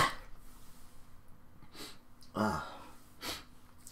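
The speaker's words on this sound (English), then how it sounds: "It's gluten free, I've got to sneeze." A person with hay fever lets out a sharp, close sneeze, then snorts and breathes heavily; a further burst of breath follows, and no one speaks.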